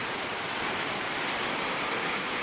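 Torrential rain driven by strong wind, a loud, unbroken roar of water with a low rumbling undertone, constant from start to finish.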